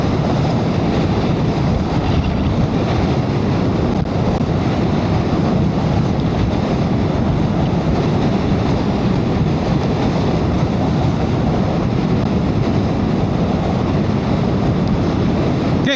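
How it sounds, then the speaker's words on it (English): Steady, loud wind roar buffeting the microphone while riding a Yamaha MT-07 motorcycle, a continuous broadband rush with no speech over it. "Getting quite a lot of wind blast on this though."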